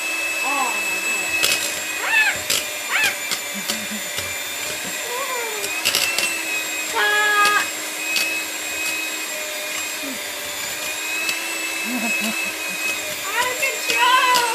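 A stand or hand electric mixer whirs steadily through chocolate crinkle cookie dough of egg, vanilla and cocoa powder, its motor pitch wavering and sputtering near the microphone while people talk and exclaim over it.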